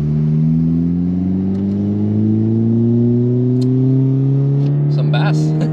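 A Honda Civic Type R FK8 with an upgraded intercooler and a twin-muffler exhaust revs up, its engine note rising steadily and loud while people talk close by.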